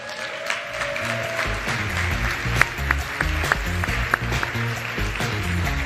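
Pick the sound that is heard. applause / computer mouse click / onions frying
applause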